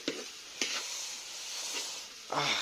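Noodles being stirred in a pan sound as a few sharp spatula scrapes and clinks over a quiet, steady sizzle, heard close up and fairly faint.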